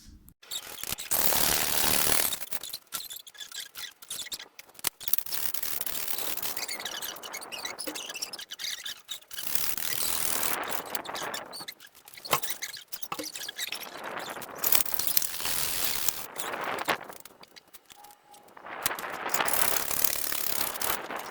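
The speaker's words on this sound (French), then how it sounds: "on va commencer par couper 25 cm les piquets" Wooden garden stakes are cut to 25 cm, played back sped up, giving rapid, harsh rasping bursts of sawing separated by brief pauses, fairly quiet overall.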